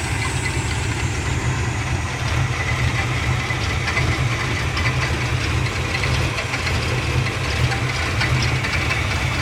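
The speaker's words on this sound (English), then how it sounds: "That little rattle goes away, guys, once we turn the idle up just a little bit." A 1972 Dodge Dart engine idling with a light rattle, a steady low rumble with a faint metallic ticking running through it, close and alone without talk.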